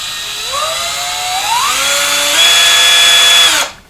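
Black & Decker 20V Max drill with a variable speed trigger, whining loudly as the trigger is squeezed in steps, pitch climbing through several stages to a high steady whir before cutting off abruptly.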